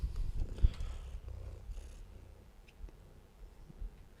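Soft, low rumbling purr of a cat close by, faint and steady with a few louder rustles at the start.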